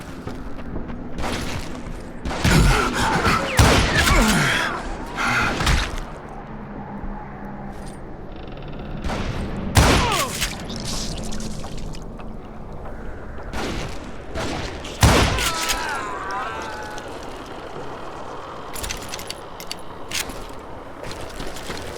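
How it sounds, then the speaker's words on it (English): Gatling gun fire in the Western shooter Call of Juarez: Gunslinger comes in several loud, dense bursts, spaced apart, with scattered shots and game sounds between them. "Kid Curry opened up on me with a goddamn Gatling gun"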